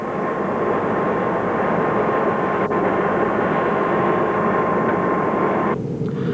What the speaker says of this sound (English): European Tornado bombers, a swing-wing aircraft capable of delivering special runway-busting bombs